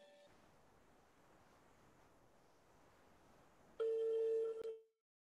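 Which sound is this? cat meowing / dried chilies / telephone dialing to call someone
telephone dialing to call someone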